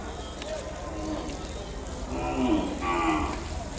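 Pure Ongole breed cows at a Kodada cattle market low with drawn-out moos, a couple of calls rising over a busy crowd with people talking around them.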